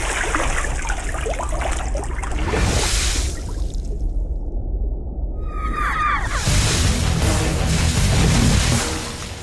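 Water is splashed onto a person's face in a loud, wet rush that cuts out briefly in the middle. A second splash follows, and its spattering keeps going to the end.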